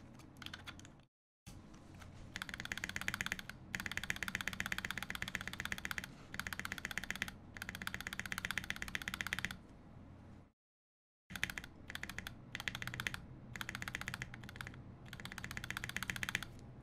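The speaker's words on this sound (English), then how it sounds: "Let's see what a GMK spacebar sounds like." Mechanical keyboard with GMK keycaps on a Polycarb Think6.5v2 prototype, its spacebar and keys tapped in a steady, fast clacking stream that stops briefly twice, close and clear with no talking.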